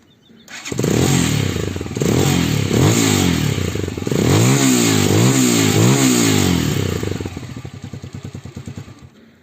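An RKS Winner 200 cross/enduro motorcycle engine revs loud and close in several rising and falling swells, then drops to a choppy, pulsing idle near the end.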